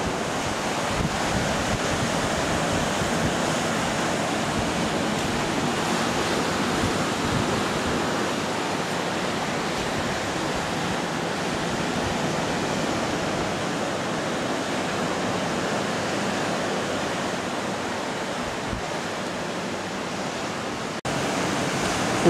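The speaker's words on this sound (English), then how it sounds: "The waves are the biggest they've been during the time we've been here." Large Caribbean sea waves break steadily at Punta Cancún in Cancún's hotel zone, Mexico, as a continuous loud roar of surf with wind buffeting the microphone throughout.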